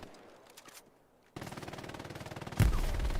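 Machine gun fire in the World War II shooter Hell Let Loose: after a quiet stretch, a sustained rapid automatic burst starts abruptly and grows louder partway through, heard at moderate distance with no voices.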